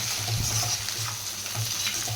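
Egg fried rice sizzles in a hot pan with a steady, close crackling hiss and occasional stirring scrapes, running without pause throughout.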